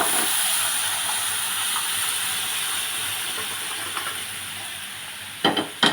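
Boiled chickpea curry is poured into a hot pan of cooked-down masala. A steady hiss and sizzle runs throughout, with a few sharp knocks near the end.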